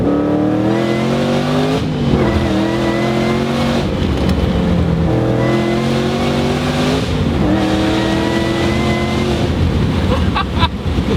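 A 2008 Shelby GT500 engine revs hard through a full acceleration pull, a loud, continuous rising roar with stacked harmonics climbing through each gear and brief dips at the shifts.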